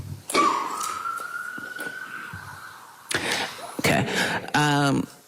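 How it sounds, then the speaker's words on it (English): An emergency vehicle siren passes at a medical examiner's press briefing, a steady rising wail across the first few seconds, then fading as voices and a sharp knock or slam follow. "If you could just wait 1 moment for the siren stops"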